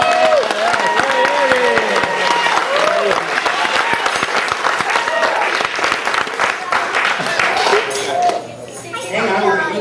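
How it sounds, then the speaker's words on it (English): A live magic show audience applauds a volunteer during a linking rings routine, loud, close clapping running for several seconds while the performer talks over it, then thinning out near the end amid a few metallic clinks. "Give her a big round of applause."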